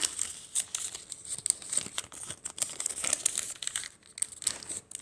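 Paper is folded into an origami mini box, close crinkling and crisp rustles coming in quick irregular bursts with brief pauses, no voice heard.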